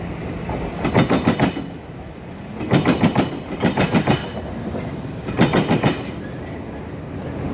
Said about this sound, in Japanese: 独特な通過音を残して走り去っていきました。